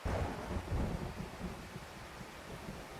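Steady rain with low thunder rumbling from a railroad station scene in the video game Graces, a heavy rumble at the start easing into a continuous soft downpour, fairly quiet with no voices.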